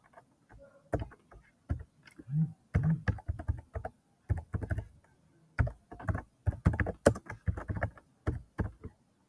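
Someone types Python code on a computer keyboard: clusters of sharp, close keystroke clicks arrive in irregular bursts separated by short pauses, with the tapping heard alone.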